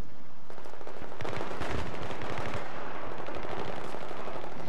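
Rapid bursts of automatic rifle fire in a Battlefield 3 team deathmatch, dense overlapping shots crackling close and loud across most of the stretch after a brief quiet start, with no voices.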